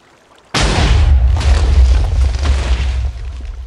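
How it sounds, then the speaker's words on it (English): A single heavy scattergun cannon burst from a Dreadnought-class light attack ship in a video game: one sudden loud boom that rolls on as a dense, rumbling roar for about three seconds before easing slightly, with no talk. "Let's activate the cannon here. And one quick burst."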